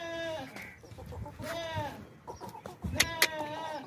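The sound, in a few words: goat at a livestock sale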